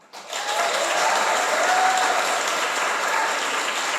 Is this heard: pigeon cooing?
no